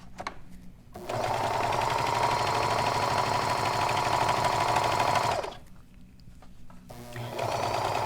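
A sewing machine stitches the centre seam of a Genève sweater, running steadily for about four seconds with a loud, close mechanical whir, stopping, then starting again briefly.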